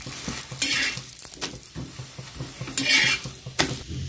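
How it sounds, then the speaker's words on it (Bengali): Lachha paratha frying in oil in a pan, with steady sizzling and repeated scraping and stirring clatter of a utensil against the pan, close and fairly loud. "এবার আমি তেল ছড়িয়ে ভালো করে ভেজে নেব।"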